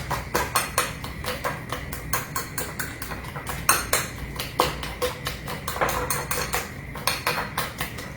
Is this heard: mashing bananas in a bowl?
yes